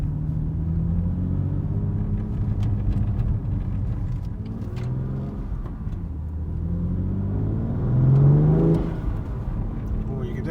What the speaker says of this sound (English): Oh, you can definitely hear some blow off, can't you?